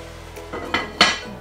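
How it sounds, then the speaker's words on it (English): Reindeer meat in butter in a pot for a stew as the lid goes on: a few close metallic clanks and clinks of pot and lid, the last one the sharpest and loudest. "Okay, we'll put some more butter. And then just put the lid on, let it simmer for a couple of minutes"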